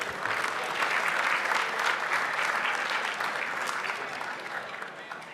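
A large crowd at an awards gala claps continuously for sponsors, a thick, even wash of applause that holds for several seconds before easing slightly toward the end.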